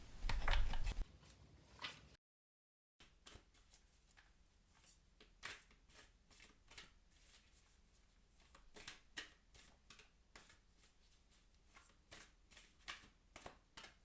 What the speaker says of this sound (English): let's pull an oracle card for that